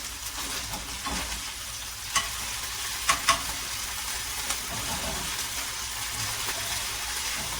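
Grits cooked as mush frying in too much grease on a stove burner, a continuous soft sizzle and crackle with a few sharp pops, no talking.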